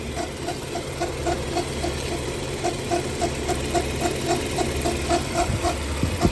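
A running 2013 BMW X5 3.5i twin-turbo engine with a noisy alternator, heard close up as a steady idling hum with a regular, rapid ticking whine repeating throughout, no talk.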